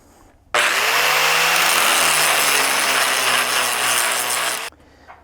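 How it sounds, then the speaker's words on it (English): An angle grinder runs steadily on backhoe metal for about four seconds, loud and close, a continuous harsh whine that starts abruptly and cuts off just as suddenly, with quiet before and after. "I'm going to use my grinder and just clean the area up just a little bit"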